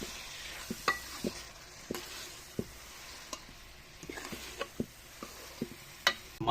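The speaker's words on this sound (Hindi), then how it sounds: "तो अभी हम इसमें डाल देते हैं आलू और शिमला मिर्च जिसको हमने फ्राई किया है" Fried potatoes and capsicum being mixed into masala for dhaba-style aloo bhuna give quiet sizzling under a series of distinct spoon knocks and scrapes against the pan, faint and close, no voices.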